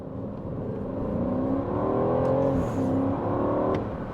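An Aston Martin Vantage engine drones steadily from inside the car while driving in sport mode, a continuous loud note with its pitch gently rising and easing, and no talking.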